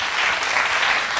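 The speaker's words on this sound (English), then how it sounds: "A big round of applause for each and every one." A panel of women writers receives a round of applause, a thick, continuous roar of clapping from a large audience, loud and uniform for the whole stretch.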